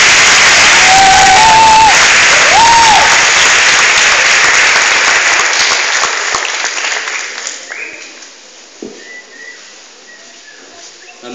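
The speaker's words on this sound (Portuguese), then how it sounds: "Dê uma forte salva de palmas." A strong round of applause and cheering from a church youth service congregation, loud and sustained at first, with a few whistles and shouts, then tapering off into scattered claps near the end.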